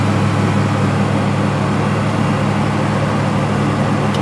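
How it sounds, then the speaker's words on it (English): A GMC Syclone truck engine runs at a steady idle, heard up close as a continuous low rumble with a constant hum and no voices. "truck's running"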